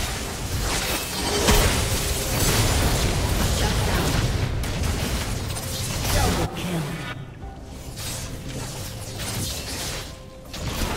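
Turret being destroyed in League of Legends, with loud crashing blasts and whooshing game effects that run continuously and briefly thin out near the end.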